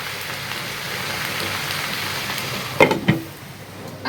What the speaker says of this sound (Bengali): ফুলকা আলু ভাজি করতেছি